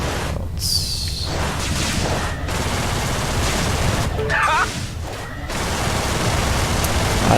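Spaceship weapons fire in the space combat game Everspace, bursts of broadband blasts and whooshing shots over a constant loud noisy bed, with a sharper burst near the middle.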